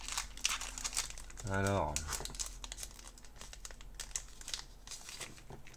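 Foil trading card booster pack from a Pokémon-style team box being torn and crinkled open, brisk crackling rustles spread through the clip, with someone speaking French over the handling.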